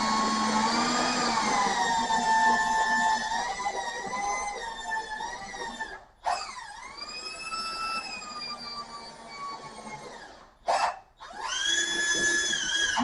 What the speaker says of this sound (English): I drilled a pilot hole because I knew it was thick